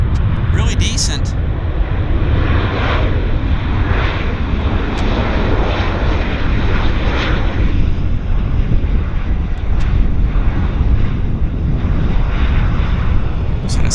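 A Boeing 737-700 airliner at Vancouver airport rolls out after landing, its engines giving a broad rumbling roar with wind buffeting the microphone and talk over it.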